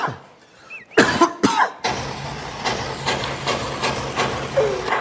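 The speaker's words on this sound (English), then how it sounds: "this is an on-air cough." Several sharp coughs in quick succession near the start, followed by a steady low engine-like rumble with a few softer bursts.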